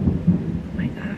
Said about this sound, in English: This thunder is crazy.